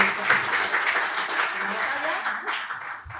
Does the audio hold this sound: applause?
yes